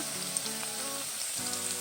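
Onion and garlic sizzle in hot oil as ground cumin, ginger and chili pastes go in, a steady close frying hiss with small crackles and no talking.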